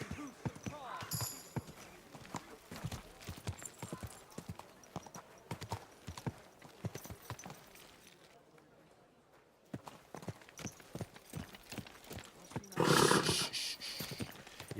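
Horse hooves clip-clop in a steady walking rhythm through most of the stretch in Kingdom Come Deliverance II, pausing briefly, then resuming with a louder burst near the end.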